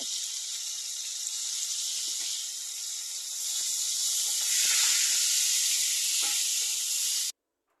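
Shrimp dropped into hot oil tempered with cumin, a loud bright hiss and sputter that swells partway through, then cuts off abruptly near the end, no talk.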